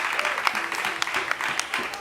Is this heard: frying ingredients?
no